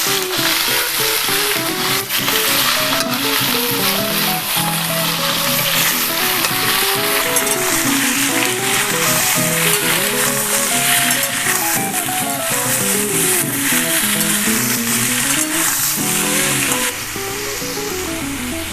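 Chicken pieces fry in hot oil and ghee with a loud, dense, continuous sizzle, close up, crackling steadily throughout and easing slightly in the final seconds.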